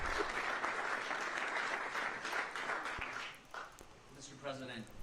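Applause for a president fills the room, a dense, sustained roar of many hands clapping that thins out toward the end as voices come through.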